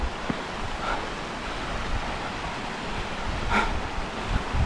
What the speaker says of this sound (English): It's amazing that the water just keeps running and running, never ends.